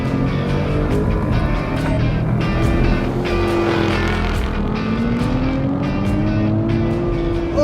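Ford Mustang 5.0 and Dodge Scat Pack roll racing side by side, a loud continuous engine roar with rising revs and shifting tones throughout, steady and close with no talk.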